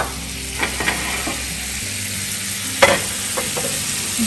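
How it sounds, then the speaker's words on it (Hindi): Half a stick of butter melting in a frying pan: a steady close sizzle with a few sharp spits and pops, and a louder clatter near the middle, with no talk. "फ्राई पैन में मैं आधी स्टिक बटर की डालूंगी।"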